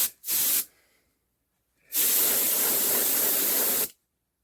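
An airbrush sprays paint onto a slot car, giving a short close hiss burst followed after a pause by a longer, steady, loud hiss that stops abruptly.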